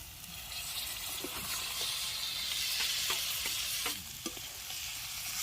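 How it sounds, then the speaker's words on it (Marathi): Chicken pieces for a village-style chicken rassa stir and sizzle steadily in hot oil, a continuous close frying hiss with repeated scraping strokes of the spoon and no talking. "पीस टाकून चांगलं सारखं हलवून घेऊया"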